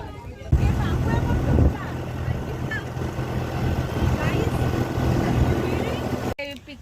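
Motorboat ride at speed with steady engine drone and rushing water, loud and continuous, with wind buffeting and voices talking over it before cutting off abruptly near the end.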